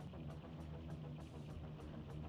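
A De Tomaso Pantera in BeamNG Drive gives a steady, dense exhaust rumble with a throbbing low drone and faint rhythmic pulses, continuous and close.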